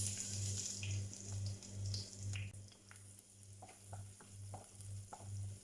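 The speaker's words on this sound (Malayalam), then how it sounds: "ഉലുവ ഇട്ടതിന് ശേഷം സ്ലൈസ് ചെയ്ത ഗാർലിക് ഇട്ട് കൊടുക്കുന്നു" Sliced garlic frying with fenugreek in hot coconut oil in a clay chatti makes a soft, steady sizzle with occasional light stirring taps. A low, pulsing electrical hum runs underneath, and no one speaks.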